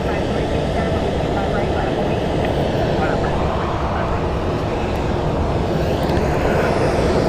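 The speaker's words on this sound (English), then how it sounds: "Next up for departure is American Airlines 2454 going to Santa Ana, California on a Boeing" American Airlines Boeing 737-800 jet departing Phoenix Sky Harbor, a loud, dense engine roar held steady throughout, with faint radio chatter mixed in underneath.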